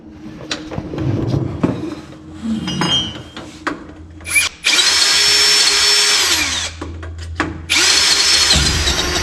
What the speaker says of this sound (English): I gotta drill them out a little bit bigger